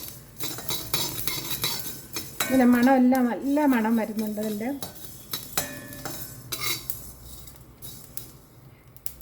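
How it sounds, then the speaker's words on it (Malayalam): Mustard seeds pop in hot oil while a chili pickle is made, giving sharp, scattered crackles and clicks close by, partly under a person talking. "ആ കടുക് പൊട്ടി വരുന്നുണ്ട്."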